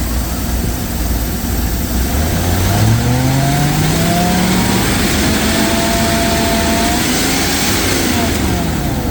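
A Ford F350 pickup's 460 big-block V8, long left sitting, runs on its rear fuel tank pump with an uneven stutter, a loud close rumble whose pitch rises and wavers as it revs, with a voice speaking over it.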